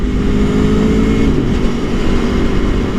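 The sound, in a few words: 2018 Aprilia Tuono Factory motorcycle accelerating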